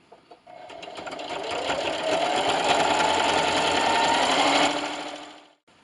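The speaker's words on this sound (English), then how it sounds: "Raise my presser foot and spin. And just keep sewing." A sewing machine top stitches the edge of a receiving blanket with a loud, steady mechanical whir that builds, holds for several seconds, and then stops abruptly, with no talk over it.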